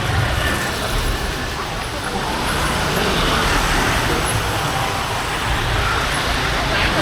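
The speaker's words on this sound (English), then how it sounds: "Maybe you recognise it from all the scooter traffic." Dense scooter traffic fills a street in Ho Chi Minh City, Saigon, Vietnam: a loud, continuous roar of engines and road noise with no breaks, close by.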